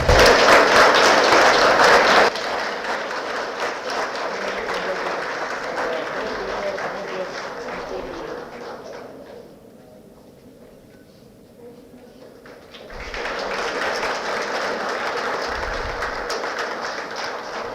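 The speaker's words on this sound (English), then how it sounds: "Can we have a huge round of applause, please?" Audience applause rings out loudly at a conference valedictory ceremony, fades to a softer murmur with possible talk, then swells again near the end.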